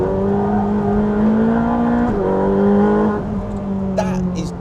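A Ferrari 458 Speciale takes a third-gear corner on a race track, its engine a loud, sustained high-pitched drone that holds pitch, dips briefly through the bend, then eases near the end.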